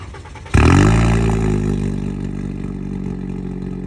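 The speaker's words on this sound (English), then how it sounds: "now we are going to start up the 5-cylinder" A five-cylinder car engine cranks and fires up abruptly, settling into a loud, steady idle with a deep, throaty rumble.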